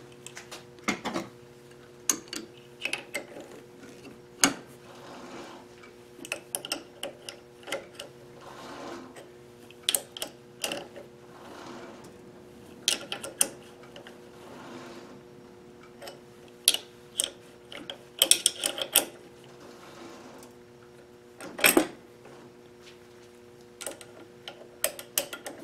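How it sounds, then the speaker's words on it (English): A lathe knurls a small metal piece for a camera mount, giving a faint, steady mechanical hum under a run of irregular sharp ticks and clicks that come and go throughout. "But I'll have to knurl a little piece to do the job for me."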